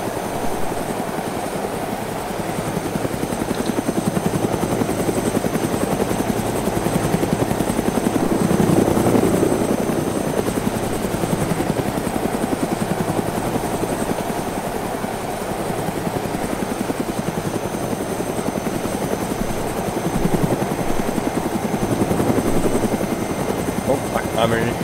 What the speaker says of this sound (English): Oh, I'm here in a heli.